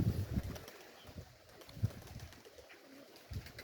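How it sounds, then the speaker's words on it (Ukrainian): Kherson pigeons flap their wings in short, soft bursts with a few scattered coos, close by and without any voices. "Ох и голубів."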